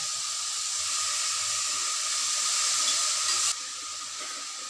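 Chopped tomatoes cook in a hot pan for a bread toast topping, giving off a steady hissing, steamy sizzle that holds level and then drops suddenly to a quieter simmer; no one speaks.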